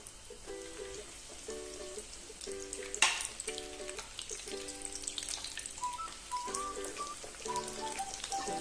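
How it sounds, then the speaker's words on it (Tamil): Breadcrumb-coated chicken lollipops deep-fry in hot oil in a kadai, with a faint, steady crackling sizzle running throughout under soft tonal background sounds. "எண்ணெய் நல்லா காஞ்சதுக்கு அப்புறம் நாம் சிக்கன் லாலிபப்பை அதுல பொரிக்கிறதுக்கு போட்டுக்கலாம்."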